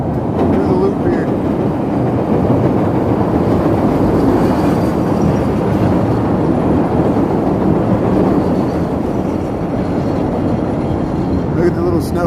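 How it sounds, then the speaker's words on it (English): A Chicago L Orange Line elevated train rumbles through the Loop in a steady, loud, continuous roar of wheels on track, filling the whole stretch, with a voice talking over it in a snowy city street setting. "Here comes a orange line heading through the loop here."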